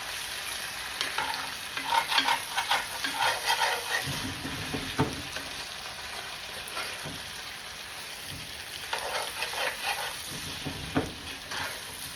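Food sears in a hot pan with a continuous crackling sizzle, broken by scraping and clattering bursts as pieces are stirred and turned over, fairly quiet and close, no talking.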